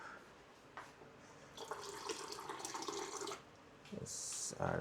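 Water pours and trickles into a container while dosa batter is prepared in a home kitchen, a steady splashing flow with a brief sharper hiss near the end, heard alone without talk.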